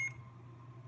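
A single short electronic beep from a Saberforge lightsaber button at the start, followed by a faint steady hum.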